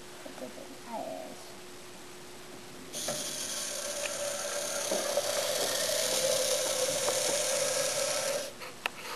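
A small toy robot built for a second-grade challenge drives forward, its motor giving a steady whirring, grinding buzz that starts abruptly and runs for several seconds before stopping, with a voice heard briefly beforehand.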